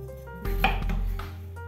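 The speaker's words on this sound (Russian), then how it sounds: "Нарезанный картофель перекладываю в кастрюлю, заливаю его водой." A brief clatter of chopped potato pieces dropping into a metal pot, followed by a short scrape, over a quiet steady kitchen hum.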